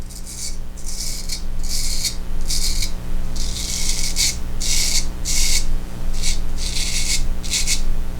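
Böker Damascus steel straight razor shaves against the grain, producing about a dozen short, crisp scraping strokes in a steady rhythm, close up, with a low room hum underneath.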